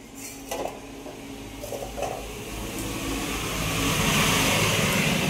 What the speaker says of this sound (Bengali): রাস্তা দিয়ে প্রচণ্ড পরিমাণে গাড়ি যাচ্ছে